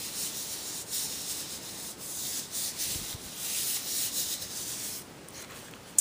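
Paper rubbed by hand over an inked plastic baggie to make a print, a steady, close, dry scratchy rubbing that runs continuously in short strokes, with no talking.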